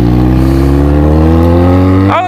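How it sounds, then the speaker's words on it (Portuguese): A Yamaha XJ6 motorcycle with a modified exhaust idles loud and close, holding a deep steady drone before the revs jump sharply right at the end. "A gente alterou o escape, o bagulho tá perrando."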